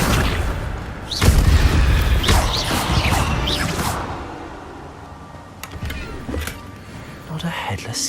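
An Accio summoning spell cast in the Hogwarts Legacy video game: a sudden booming whoosh with mechanical clatter, then rustling magical effects tailing off, with a voice speaking over part of it.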